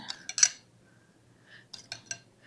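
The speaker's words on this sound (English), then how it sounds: "I'll just kind of take my spoon, hope y'all can see, just kind of open them up a little bit." A metal spoon clinks against a baking dish while opening up herb-baked hasselback potatoes, a few light, bright taps and scrapes in two brief clusters, close by and quiet.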